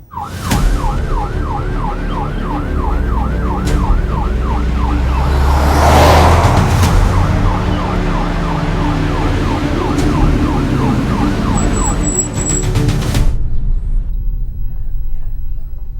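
An ambulance siren wails in steady, repeated rising and falling sweeps over a low traffic and engine rumble, holding loud and close before cutting off abruptly near the end.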